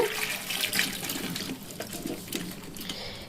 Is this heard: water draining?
yes